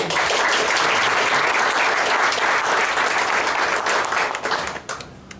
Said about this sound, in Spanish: quiero que lo reciban con un fuerte aplauso